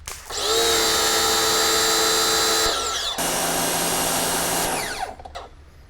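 A Westforce electric pressure washer runs with a steady, loud high-pitched motor whine. It starts after a short ramp-up, shifts pitch partway through and cuts off near the end, with no talk.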